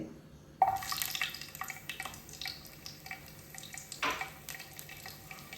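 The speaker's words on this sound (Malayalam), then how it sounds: "അപ്പോൾ എണ്ണ ഒന്ന് ചൂടായി വരുന്ന സമയത്ത് ഇതിലേക്ക് ഇതാ 2 അല്ലി വെളുത്തുള്ളി ഇട്ട് കൊടുക്കുന്നുണ്ട്" Two garlic cloves dropped into hot coconut oil break into a sudden close sizzle and crackle, then keep up an uneven, spitting fizz with a few sharper pops, with no voices.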